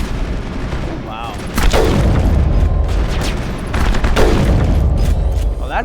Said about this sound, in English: that grenade was pretty effective against them